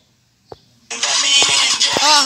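A motorcycle engine cranks and catches, then runs with a rough, rising idle, close and loud after a short click, with a voice briefly heard before it starts.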